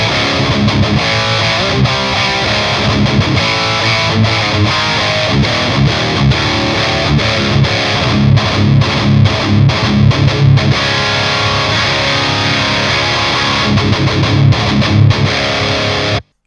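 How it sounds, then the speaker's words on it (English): Loud, heavily distorted electric guitar on the bridge pickup plays chugging riffs and chords with a tight, aggressive, bright tone, continuous throughout. "let's start with the bridge position and see how mean this guitar sounds"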